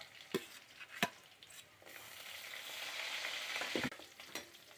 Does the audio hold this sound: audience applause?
no